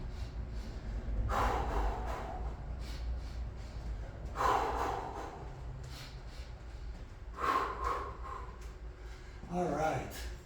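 Heavy, sharp breaths and snorting exhales during a chin-up workout in a garage come in several bursts a couple of seconds apart, close and fairly clear.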